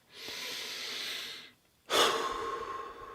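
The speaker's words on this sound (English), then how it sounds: "What I want you to do is breathe for a moment." Slow, deep breaths during a guided breathing meditation: a long steady inhale, a short pause, then a strong exhale, close and clear with no talking.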